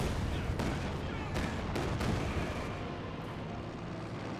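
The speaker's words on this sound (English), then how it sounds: "Is that another creep barrage?" A creeping artillery barrage in the strategy game Company of Heroes 2, a dense rumbling roll of distant shell impacts and booms with several sharper blasts spread across a few seconds.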